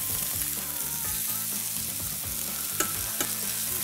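Tomato juice poured into a braise sizzles in a hot pan while a spoon stirs it, a loud, close hiss with a few scraping knocks against the pan.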